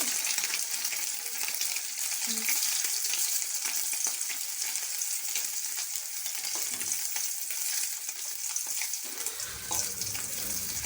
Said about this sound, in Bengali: ভালো করে ভেজে নেব আমি টমেটো